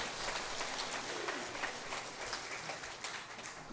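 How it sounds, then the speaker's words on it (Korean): Congregation clapping in a church service after a child's answer, a dense, steady wash of applause filling the room throughout, fairly even in loudness. "박수."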